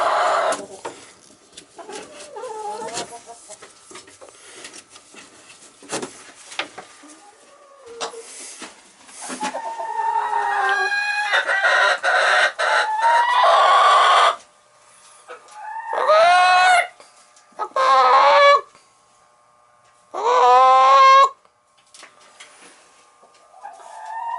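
Backyard chickens in a coop cluck and call in bursts that start scattered and faint, then turn to loud, close, repeated crowing-like calls in the second half, with no talking.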